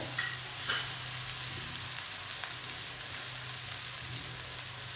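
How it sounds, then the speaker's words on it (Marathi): Green chillies sizzle and fry in a pan for a Maharashtrian zunka and pithla recipe, a soft steady crackle with a few brief stirring clinks near the start, quiet and close. "त्याला थोडं परतून घ्यायचं आहे व्यवस्थित"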